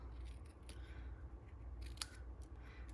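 Scissors snipping paper card pieces for a Halloween greeting card, a few quick crisp cuts in close succession, near and fairly quiet against a low background hum.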